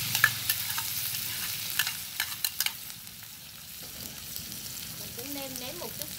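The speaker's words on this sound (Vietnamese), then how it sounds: "Giờ mình bỏ tép vô." Small shrimp stir-fried with garlic in a hot pan: a steady sizzle with scattered clinks and scrapes of stirring, close and moderately loud, with no talking.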